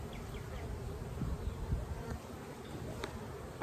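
Honeybees fill an overflowing hive during an inspection, a faint, steady buzzing hum with a few individual bees passing closer.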